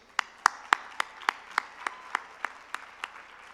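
Sparse, slow hand claps from a small audience at an evening Los Angeles gala honoring its honorees, about a dozen separate sharp claps spaced evenly over a quiet room rather than a full ovation.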